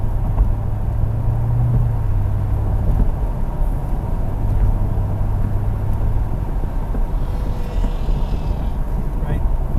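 A track car fitted with an AMP exhaust runs down a straightaway, its steady, loud engine drone rumbling under constant wind buffeting, with faint voices in the background.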